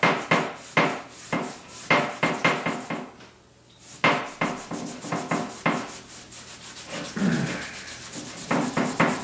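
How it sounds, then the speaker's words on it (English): Repeated rubbing strokes buff down dark spots on mule deer and elk antlers, a steady rhythmic scrubbing close by with a short pause midway and no talking. "We're going to rub those down, lighten them up a little bit, basically."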